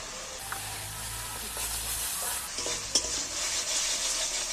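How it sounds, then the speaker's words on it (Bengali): Masala for egg curry sautés in a pan with a steady hissing sizzle, broken by a few scraping stirs and one sharp clink of the spatula; no one speaks. "এইবার ভালো করে মশলাটাকে আবারও কষিয়ে দিচ্ছি।"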